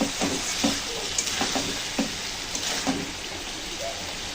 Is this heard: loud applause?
no